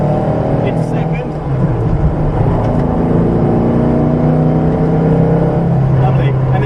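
A race car accelerates in second gear around the Goodwood circuit, its engine droning loud and close from the cockpit as the revs climb, with people talking over it.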